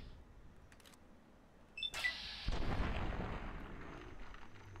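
Gunfire from a super mutant in Fallout 3, a sharp metallic report followed by a louder booming blast that rumbles and lingers, with no talking over it.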